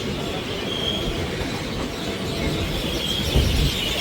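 The Ganadevta Express, a passenger train, pulls out of Mallarpur station with a loud, steady rumble of wheels on rails, a thin squeal riding on top and a heavier clunk near the end.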